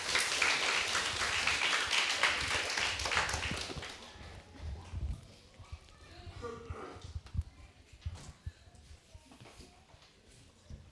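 A church congregation at a Sunday service claps loudly to welcome speakers coming up for a forum. The dense applause fills the first few seconds, then dies away and a voice begins talking.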